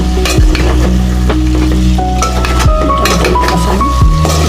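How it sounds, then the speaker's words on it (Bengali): Shing fish and green banana curry sautés over low heat in a pan, a loud continuous close sizzle with spoon stirring and occasional clinks of utensil against metal. "আস্তে একটু ধিমে জালে এভাবে কষিয়ে নেব"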